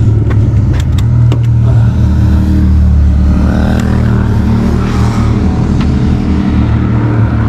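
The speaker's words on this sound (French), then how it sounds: "Parce que les bécanes, comme d'hab, font la course." Motorbikes and cars race past on a road in the Esterel hills, a loud continuous roar of engines with revving and rising whines of passing vehicles.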